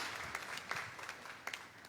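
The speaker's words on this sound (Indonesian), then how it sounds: "Beri tepuk tangan yang meriah bagi Tuhan." Applause from a church congregation during a worship service, a dense, steady patter of many hands clapping at moderate distance, with a few sharper claps standing out and no talk over it.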